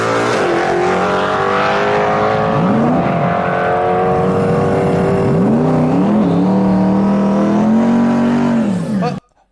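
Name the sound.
stick-shift race car with Coyote engine accelerating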